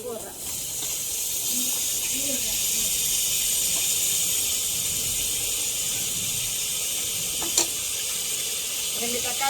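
Two tomatoes and two onions sautéing in a hot pan give off a steady, even hiss that runs without pause, with a brief clink near the end.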